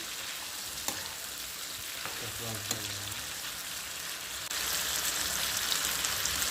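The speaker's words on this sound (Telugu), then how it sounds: "నేను దీంట్లో కొంచెం వెల్లుల్లిపై, చెక్క, లవంగం, లాలిక్కాయ అయితే వేసుకుంటున్నాను అనమాట." Garlic, cinnamon, cloves and cardamom fry in oil in a pan for a paneer butter masala paste. A steady, close hiss of sizzling runs throughout, with a few light stirring scrapes and a brighter surge of crackle near the end.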